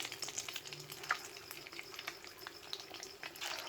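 Paneer cubes fry in hot oil for palak paneer, giving a faint, steady sizzling crackle with a few light stirring taps, quiet and without speech.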